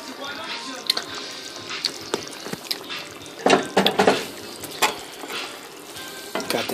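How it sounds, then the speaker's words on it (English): Stewed red snapper simmering in a pot, a soft bubbling and sizzling bed with scattered pops and clinks of stirring, louder bursts mid-way, with speech around it. "Got that simmering."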